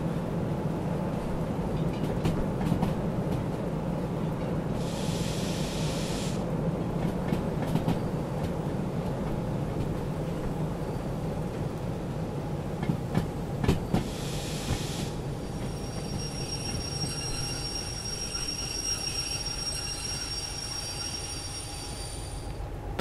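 A damaged locomotive hauls a long military freight train in the Derail Valley game, a steady loud rumble and rolling wheel noise with bursts of high squealing and clicks, continuous throughout.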